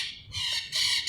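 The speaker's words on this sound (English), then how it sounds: "I don't think the birds want me to talk about this. Oh, they're just flown away." Birds squawk loudly and harshly near a hiking trail in San Martín de los Andes, with repeated raucous calls in two or three bursts and no talking.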